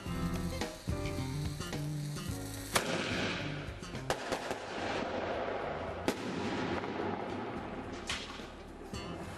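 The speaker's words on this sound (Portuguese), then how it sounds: "O que a gente pode observar foi que pelo ruído, muitas bombas elas não estouraram." Firework shells launched from a tube, several failing to burst, give dense crackling and popping bursts with sharp sporadic bangs, loud and continuous throughout.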